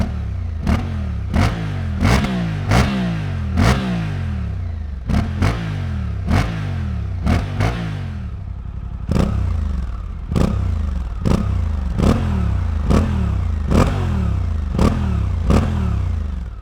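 A Suzuki V-Strom 800DE motorcycle fitted with an Akrapovic exhaust revs loudly and close by in repeated sharp throttle blips, each rising and falling quickly over a steady idle, with no voices.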